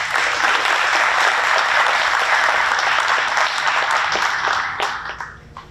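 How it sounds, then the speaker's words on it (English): A room full of people at a school district facilities and bond advisory committee meeting applauds for the superintendent, dense sustained clapping that holds steady for several seconds and then thins out and fades to a few last claps. "let's give a round of applause to our superintendent"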